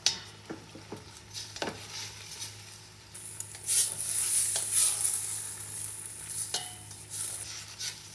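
Browning ground meat for chili is stirred in a hot pan, scraping and knocking under a building sizzle that swells into a loud, bright crackle midway. The sound stays close and no one speaks.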